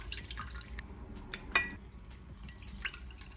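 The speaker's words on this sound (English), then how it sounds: "To this, I am going to add some lemon juice." Lemon juice drips and trickles into a glass of dry Sauvignon Blanc white wine, with a few small splashes and one brighter plink against quiet kitchen background.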